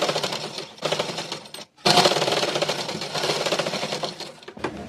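A sewing machine stitches a kinara edge along a blouse collar, running in close, fast mechanical bursts with a brief pause between runs and a short stop near the end.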